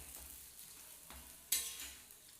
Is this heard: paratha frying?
yes